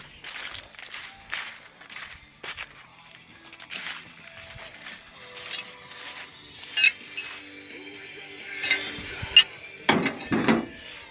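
A 1-inch wrench works at the wheel of a Yerf Dog go-kart, giving irregular metallic clinks, ratcheting clicks and knocks that come close and clear over a quiet background, a few louder bangs near the end.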